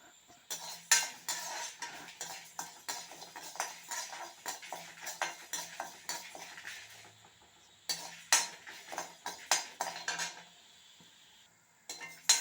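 Dry rice is roasted and stirred in a metal pan with a spoon, a steady run of scraping clinks and grainy rattles in bursts, pausing briefly around the middle before resuming close and clear.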